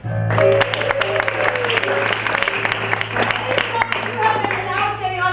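Sustained, full applause from a comedy show audience honours the musical director, with thick, continuous clapping, a low steady hum underneath and speech mixed in.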